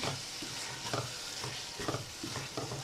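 Chicken keema stirred in a frying pan, a steady close sizzle with repeated scraping strokes of the spoon over it and no talking.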